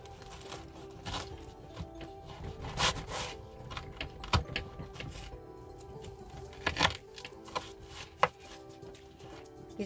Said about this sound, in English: I'm going to put it on my cutting board mat and we're going to give it a good cut.